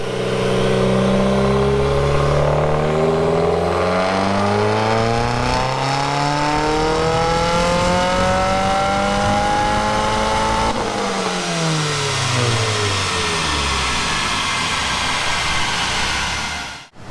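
A 2018 Subaru WRX with an FA20 engine revs hard on a dyno, its loud exhaust note climbing steadily through the gears, then falling away as the pull ends, with no talking.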